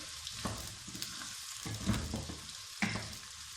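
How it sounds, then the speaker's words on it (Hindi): Onions frying in hot oil for Lahori chana chole, a soft, steady crackling sizzle broken by a few brief scraping stirs, with no one speaking. "अब इसमें हम ये प्याज डाल लेंगे। प्याज को हम इसी तरह फ्राई करेंगे"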